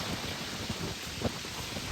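Rain falling outdoors near Karimnagar dam during a sudden cool weather change, a steady close hiss of drops with a few soft low rumbles, no voices.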